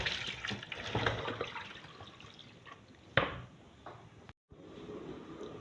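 Liquid extracted from palm fruit for banga soup is drained and splashes in irregular pours and drips with a couple of sharp knocks, fairly quiet and close, with a brief silent gap near the end.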